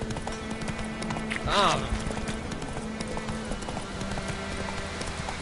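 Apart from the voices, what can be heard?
horse Roach galloping hooves in The Witcher 3 video game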